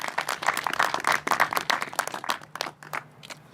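Applause at a virtual hotel awards ceremony, a burst of scattered hand clapping from a small group that thins out and fades toward the end.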